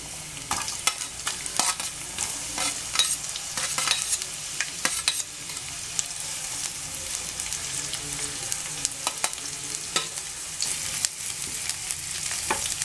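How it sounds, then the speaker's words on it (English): Chopped onions with garlic fry and get stirred in a pan for a baby corn Manchurian, a steady close sizzle with repeated scraping stir strokes throughout and no talk. "Let the onion fry for 2 to 3 minutes."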